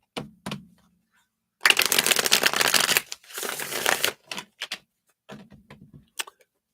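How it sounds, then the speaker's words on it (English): Playing cards are shuffled nearby in two riffling bursts, each about a second long, with scattered soft taps and clicks of cards before and after. "let's shuffle those up again"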